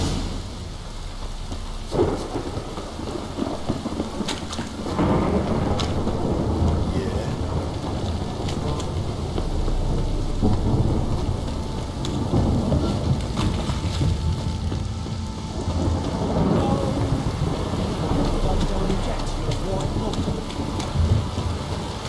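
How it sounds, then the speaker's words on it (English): Heavy rain and rolling thunder in a video game, a continuous loud downpour with deep rumbles swelling and fading throughout. "This downpour's a bastard, it is."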